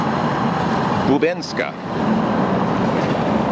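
A tram rumbles past on a street in a northern suburb of Prague, a steady loud roar with a brief squeal of wheels midway, while someone speaks over it.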